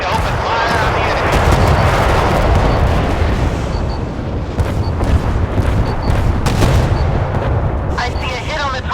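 Warship guns fire in a naval combat video game, a dense, continuous roar of booming blasts and rumbling explosions throughout, with a radio-style game voice speaking over the barrage.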